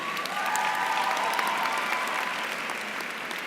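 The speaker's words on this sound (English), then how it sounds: "So let's applaud them once again." Commencement audience at Spelman College's 2018 ceremony applauding, a dense, steady wash of clapping that fills the room and holds loud throughout before easing slightly toward the end.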